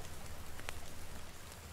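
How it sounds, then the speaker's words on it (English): Rain falls in The Forest video game, a soft, steady hiss of drops on surfaces with one brief brighter patter, continuous and faint with no voices. "It's raining again."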